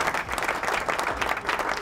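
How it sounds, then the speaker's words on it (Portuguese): Audience applause and cheering welcome a guest onto a sports-and-relationships podcast set, a dense steady burst of clapping close by for about two seconds. "Diogo Pernas, palmas pra ele, palmas"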